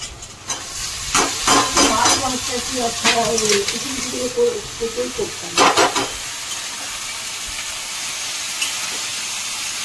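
Banana flower tipped into a pan of frying onions and green chillies, a steady sizzle and hiss running throughout while a voice talks over the first half, with a few stirring clatters.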